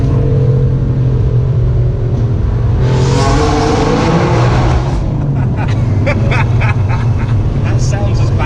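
BMW M3 exhaust revving loudly from inside the car with the window down, a constant heavy drone that swells into a higher rev midway, while people talk over it.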